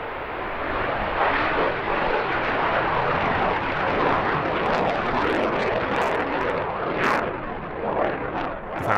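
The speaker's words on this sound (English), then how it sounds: "perhaps the most exciting was Dean Cutshall's F-100F Super Sabre" A North American F-100F Super Sabre jet flies at an airshow with a loud, sustained roaring engine rumble and hiss that swells slightly, heard alone without talk.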